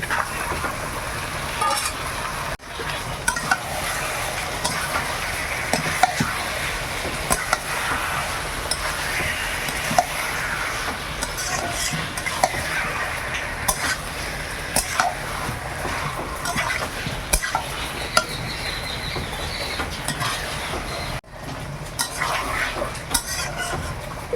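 Chicken pieces with spices are stirred and fried in a pan, a constant sizzling hiss broken by repeated scraping and clinking of a utensil against the pan over a long stretch.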